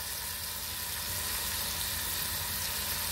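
Meat seasoned with garlic salt and adobo sizzles in a pan, a constant, dense hiss that holds evenly at moderate loudness with no voices.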